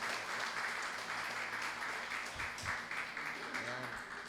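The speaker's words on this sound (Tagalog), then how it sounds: "Isa pong malakas na palakpak sa ating Diyos." A Sunday worship congregation in a Filipino church gives a round of applause to God, steady crowd clapping throughout, with faint background voices or cheering mixed in underneath.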